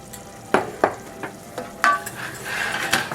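Garlic cloves and half a teaspoon of red chili flakes fry in a hot pan, a steady soft sizzle broken by several sharp clinks and scrapes of stirring.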